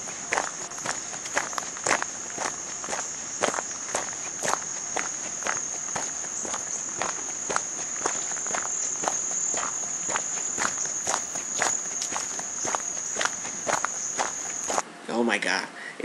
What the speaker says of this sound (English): it feels like I'm walking in the forest and hiking